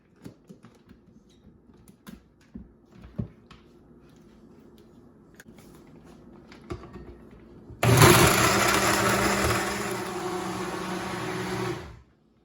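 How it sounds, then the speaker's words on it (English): A blender whirs loudly, mixing a mango milkshake of mango and milk. The roar starts suddenly after several seconds of quiet kitchen clatter, stays steady and close for about four seconds, then cuts off. "put your lid on, and blend it"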